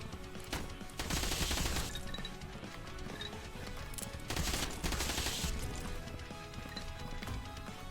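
Rifle fire in the first-person game Vampire Hunters comes as two loud bursts of rapid shots, each lasting about a second, over a steady background of game music and effects.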